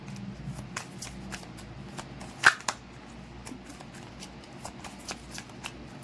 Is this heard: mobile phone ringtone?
no